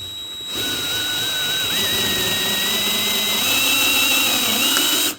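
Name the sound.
3/4 inch hole saw cutting plastic side panel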